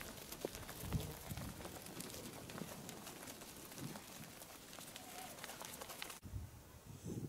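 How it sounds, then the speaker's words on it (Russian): Followers run along a street in Okunevo. Their feet make a soft, continuous patter of stomping thuds with a few stronger hits, heard from nearby and fairly faint. "Вы можете слышать этот топот."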